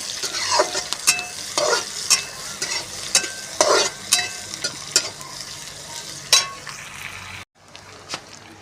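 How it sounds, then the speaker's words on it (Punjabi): Onions tossed into a hot pan with browned ginger and green chili for aloo bhindi sabzi sizzle and crackle steadily, with repeated scraping stirs up close, then the frying drops to a quieter hiss near the end. "ਹੁਣ ਪਾ ਦਾਂਗੇ ਆਪਾਂ ਇਹ ਪਿਆਜ਼ ਪਿਆਜ਼ਾਂ ਨੂੰ ਭੁੰਨਾਂਗੇ"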